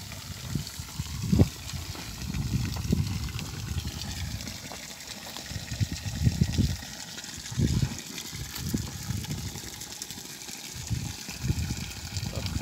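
Water gushes steadily into a tilapia breeding tank as it fills, a continuous rushing flow with uneven surges throughout.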